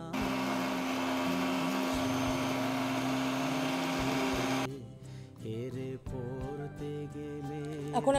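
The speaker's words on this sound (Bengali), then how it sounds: "আমি এটাকে ব্লেন্ড করব।" An electric mixer grinder jar whirs loudly while blending chicken for homemade nuggets. The steady motor roar is close, then cuts off abruptly partway through, leaving quieter rattling and handling noise.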